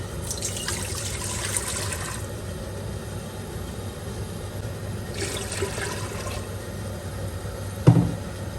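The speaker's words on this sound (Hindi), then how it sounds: "इसमें मैं ऐड करूँगी 2 लीटर पानी।" Two litres of water poured into a cooking pot for a beef trotters (paya) recipe, a soft steady splashing stream for about two seconds near the start and again mid-clip, ending with a short knock.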